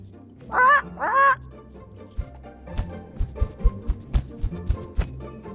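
Bird in The Book of Unwritten Tales 2 squawking twice in quick succession, loud and close with rising warbled calls, then followed by a run of soft thuds and clicks.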